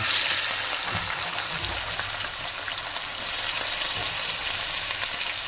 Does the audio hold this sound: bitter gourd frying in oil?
yes